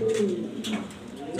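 A Jharna satin pigeon pair, male and female, coo in short throaty rolls at close range, two quick calls sounding over faint background noise.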